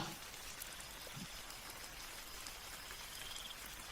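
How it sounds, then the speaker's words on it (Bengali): Light rain pattering steadily as an animation sound effect for a rainy night in a forest, a soft even hiss with faint drops throughout and no voices. "হালকা হালকা বৃষ্টি,"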